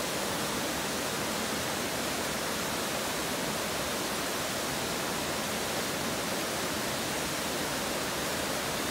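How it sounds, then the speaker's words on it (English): Rushing water at Lodore Falls in the Lake District, a steady, loud, unbroken broadband roar of falling and tumbling water that continues throughout with no voices. "Listen to the water."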